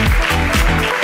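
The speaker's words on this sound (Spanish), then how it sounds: "Un aplauso" Studio audience applause on a Spanish comedy podcast, a short dense burst of clapping filling the whole second at full level, with faint voices mixed underneath.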